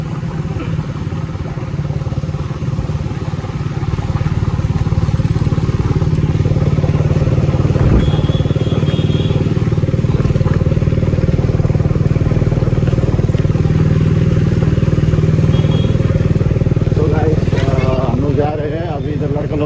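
A motorcycle rides along at a fair, its engine a steady loud drone throughout with occasional clatter and bumps, while voices talk over it.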